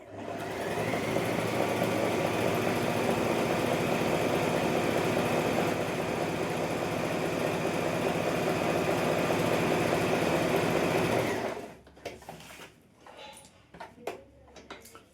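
An Allure DLX sewing machine runs a triple zigzag stitch in a long, steady, loud whir of fast stitching for about eleven seconds, then stops, leaving scattered handling clicks and rustles.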